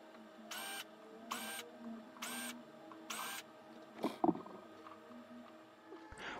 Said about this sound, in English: To disassemble it, it is only necessary to remove all the screws of the back